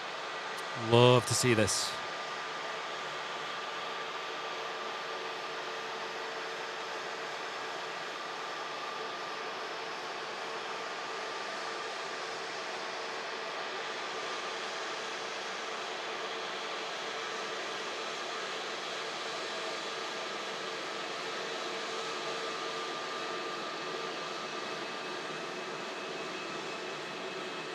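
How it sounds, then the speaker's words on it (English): Egypt Air Airbus A321neo jet at an airport, a steady broadband engine roar held for the whole stretch at moderate distance, with a short spoken remark at the very start. "Egypt Air A321 Neo."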